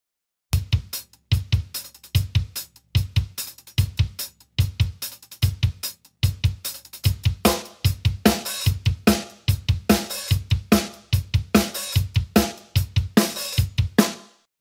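A fat, punchy kick drum, processed with EQ and compression, pounds in a steady repeating pattern, full and weighty low end with crisp attack, alone and close.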